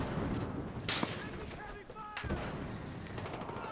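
A sharp sniper rifle shot cracks once in Battlefield Hardline, loud and sudden, followed by a second thud amid game noise with faint distant rumbling.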